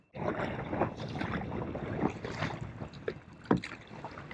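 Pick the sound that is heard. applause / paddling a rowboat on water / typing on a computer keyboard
paddling a rowboat on water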